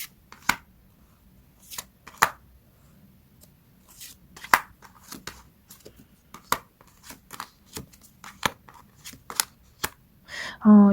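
Tarot cards being shuffled in irregular quick riffles and soft slaps, close and crisp, with quiet gaps between bursts and a brief voice at the very end.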